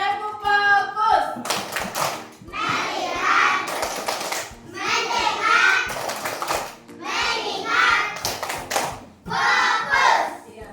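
A primary school class in Indonesia performs a rhythmic group clapping chant, bursts of unison claps alternating with children's chanted voices in a classroom.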